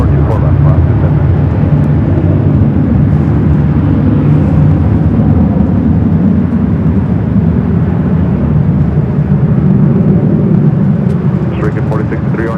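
Jet airliner on its takeoff roll on runway 24 left at LAX, a steady loud broadband roar holding level throughout with a low rumble beneath and faint radio talk mixed in.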